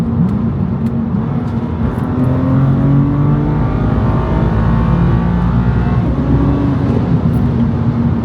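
BMW M2 Competition F87 with S55 engine and equal length single hybrid midpipe revving hard, a loud continuous smooth drone climbing and holding at high revs without rasp.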